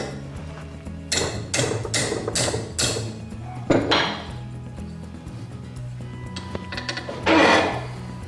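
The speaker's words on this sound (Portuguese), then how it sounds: "É só prender aqui na morsa no outro sentido e dar uma batidinha." A metal table part clamped in a vise is struck with a series of sharp hammer taps, several quick blows in a row, then a few scattered louder knocks, close and ringing.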